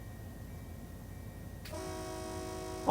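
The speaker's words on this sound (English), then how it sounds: "Jeez, this horn is good." Locomotive horn in the Run8 Train Simulator game sounds loudly about halfway through, a sustained multi-tone blast rising over a low, steady train rumble and continuing to the end.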